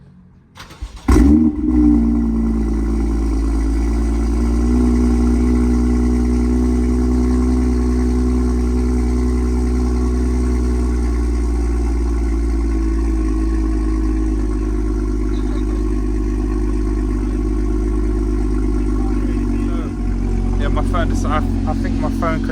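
BMW M2 F87 with an N55 engine and a decat downpipe fitted fires up with a sharp burst, then settles into a loud, deep, steady idle close by for about twenty seconds, with a brief blip near the end.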